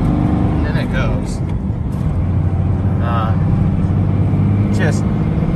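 A 2nd-gen 5.9L Cummins diesel truck with a weak turbo pulls hard at full throttle, its loud, steady engine drone filling the cab throughout, with a person talking over it.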